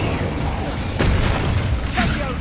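A loud Incendio fire spell blast from the Hogwarts Legacy video game, a booming burst around the one-second mark followed by a second whooshing flare, over a steady dense game background.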